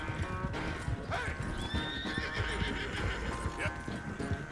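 Horse neighing and hooves clopping in the video game Red Dead Redemption, a loud close whinny over a busy stream of hoofbeats and game sounds, with voices talking throughout.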